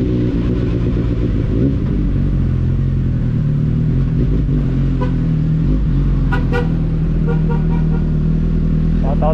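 Suzuki GSR 750 White Edition motorcycle fitted with a Two Brothers full exhaust, idling and revving with a deep, loud rumble throughout, with traffic and brief horn toots in the background.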